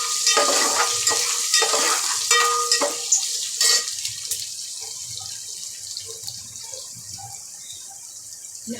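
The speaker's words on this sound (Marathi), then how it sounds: "लसूण आपलं चांगलं परतून घ्यायचं आहे, अद्रक लसूण ठेचलेलं ते" Crushed garlic and ginger sauté in a hot pan with a bright sizzle and brisk stirring clatter that gradually settles into a quieter, softer fry. No voices are present.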